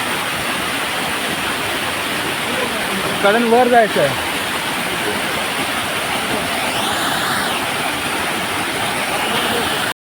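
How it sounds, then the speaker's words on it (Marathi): A small waterfall in a Konkan jungle gives off steady, fairly loud rushing noise that runs through the whole stretch, with someone speaking briefly over it. "छोटा धबधबा बघू शकता मित्रांनो"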